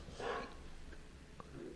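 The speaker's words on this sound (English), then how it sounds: "Don't mind the dog noise." A dog gives a short bark or yelp early on, followed by a couple of faint, brief yips against a quiet indoor room background.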